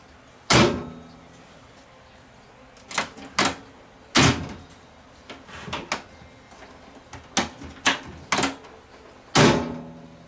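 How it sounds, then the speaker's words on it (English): A Panasonic microwave oven door being shut during a switch block and latch repair gives a series of sharp, close clicks and clunks, spaced irregularly with brief quiet gaps between them. "I do believe the switches are closing now, and the doors is closing."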